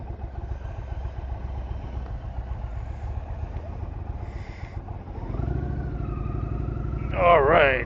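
Several motorcycles rumble at low idle, then engines rev up as riders start off on their first ride of the season, a steady throaty drone swelling louder near the end, with a voice briefly heard over the engines.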